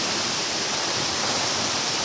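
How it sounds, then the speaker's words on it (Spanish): Steady broadband roar of a waterfall at Cascada Alemana in Villacarmelo, Cali, a continuous dense rush of falling water heard close and alone without any talk. "haber llegado a esta cascada tan linda"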